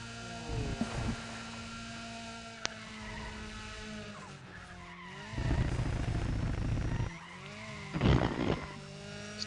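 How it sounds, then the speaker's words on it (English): Car in the Need for Speed ProStreet racing game riding over a curb, a rough rumbling thud burst with skidding tire noise over steady engine hum and a second jolt shortly after. "It's the sound of what the car sounds like going over the curb."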